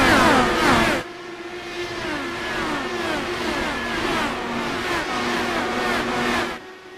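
IndyCar race cars at Iowa in iRacing accelerate at a restart, a loud pack of engines rising together in pitch as they pull away, with many overlapping gear-change sweeps.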